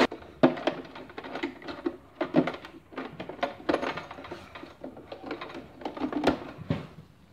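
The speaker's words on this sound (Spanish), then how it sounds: "Y con esta presa tela de teflón y la aguja especial de punta de bola, coseréis cualquier tejido de licra" A sewing machine with a ball-point needle and teflon presser foot stitches lycra fabric in quick rattling bursts of rapid needle clatter, stopping and starting several times, close and fairly quiet.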